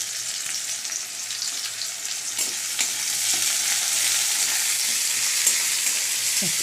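Black cumin, spices and chili frying in hot oil in a pan produce a continuous, loud, crackling sizzle that stays close and even throughout, with faint stirring scrapes.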